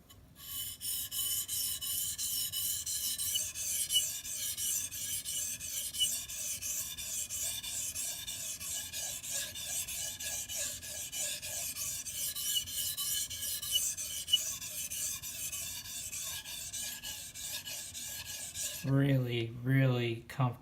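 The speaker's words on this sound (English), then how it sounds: "Really comfortable stone to sharpen on." Knife blade sharpened on a coarse Shapton Glass whetstone, a steady close scraping rasp of repeated strokes lasting about nineteen seconds, then a brief burst of other sound at the end, no talking.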